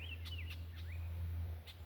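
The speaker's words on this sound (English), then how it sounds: "these birds right here, these birds are a little bit different bird than what I come off of" Small birds chirp nearby during a walk in the rain, giving a few quick whistled calls and sliding tweets that sit faintly over a steady low hum.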